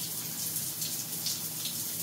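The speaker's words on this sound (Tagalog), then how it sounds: "nakadagdag pa rin pala itong aking small pump dito, yung demand pump sa daloy ng tubig sa overhead shower" Steady shower water flowing from an overhead shower, boosted by a small Jieyuan mini automatic demand booster pump; a continuous, even hiss of running water with a faint low hum beneath, no talking.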